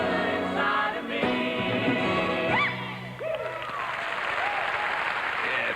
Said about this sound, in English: Wonderful applause from the audience here.